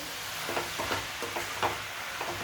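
Vegetables for veg pulao being stirred in a pan make a low, steady sizzle, with a run of soft scraping strokes at a regular pace and no voices.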